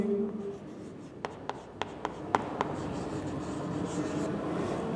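A math function is written on a board in quick strokes: a handful of sharp, distinct taps and scratches stand out over a steady, hissy room background, with no talking.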